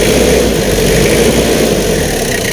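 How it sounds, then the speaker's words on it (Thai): A Toyota Mighty-X single-cab pickup truck engine idles steadily, a loud, close, even low rumble with no revving, continuous from start to finish. "เสียงเครื่องยนต์นิ่มมาก ๆเลยคันนี้นะพี่น้องนะ"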